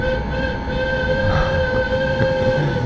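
A tram horn sounds as a sustained, steady tone over the rumble of rail traffic on a street in Naples, Italy, loud and close for the whole stretch.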